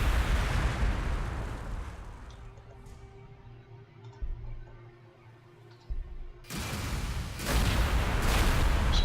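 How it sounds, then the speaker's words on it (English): Massed missile fire in a fortress siege video game, a dense burst of explosive blasts and rumbling booms that starts loud, fades into a low droning lull, then erupts again with heavy layered explosions near the end. "Massed missile fire."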